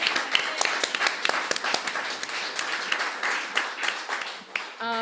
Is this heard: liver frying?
no